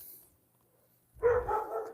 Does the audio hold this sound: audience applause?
no